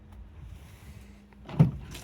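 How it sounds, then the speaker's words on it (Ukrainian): Toyota bZ4X electric SUV door closing once with a soft, solid thud near the end, preceded by a faint motor whir and light handling noise close by, with no talk. "двері відкриваються, закриваються доволі приємно"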